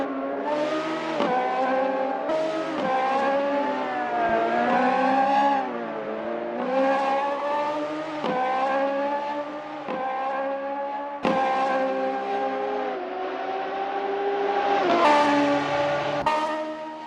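Radical SR3 race car in the Assetto Corsa video game, a loud continuous engine whine climbing through the gears in repeated upshifts, with brief drops between them and no voices.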